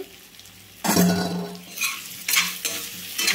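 Spicy undrallu dumplings with grated coconut are stir-fried in a pan, heard close as several bursts of sizzling and scraping, each rising sharply and fading between stirs.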